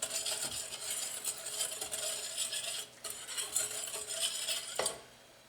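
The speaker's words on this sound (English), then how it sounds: "Give this a quick whisk." Quick, brisk whisking of all-purpose flour and salt in a bowl, the whisk scraping and ticking rapidly for several seconds before stopping.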